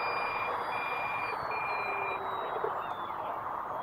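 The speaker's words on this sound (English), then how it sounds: "this smart ESC is really giving me a hard time with all these warnings" An E-Flite Habu electric ducted-fan jet's smart ESC sounds thin, repeated warning beeps over a constant whooshing fan and wind noise.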